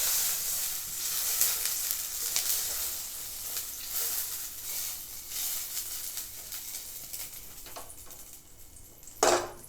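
Butter sizzles and crackles in a hot pan while samosa filling is being started, a steady bright frying hiss with small pops, ending in a sharper burst near the end.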